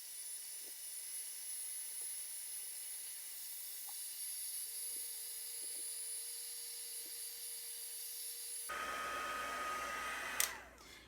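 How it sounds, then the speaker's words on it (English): A heat tool heats embossing powder on a card, giving a faint steady hiss and whine with small knocks that swells to a loud, close blowing roar near the end. "now I'm going to use my heat tool to heat these"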